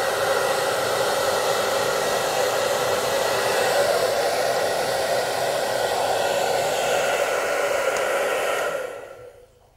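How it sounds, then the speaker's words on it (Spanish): A hair dryer blows steadily on a rabbit's fur, a loud, even, close whoosh that runs for most of the stretch and then cuts off and fades to silence at the end. "Vamos a ir alternando el cepillado con el secado para evitar que se nos formen nudos y que se nos estropee el pelo"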